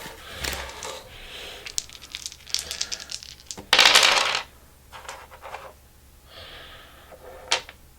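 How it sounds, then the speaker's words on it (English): Plastic board game dice being picked up and handled for a Lewis and Clark discovery-themed game, heard as close, scattered clattering rattles and clicks in irregular bursts, with one louder shaken burst midway and no talk over them. "I'm actually going to take some dice"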